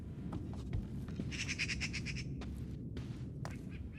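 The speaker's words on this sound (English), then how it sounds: "It's a squirrel." A squirrel chitters in the video game Thi4f, a quick burst of rapid squawking chirps over a dense ambient background, with a few other faint calls around it.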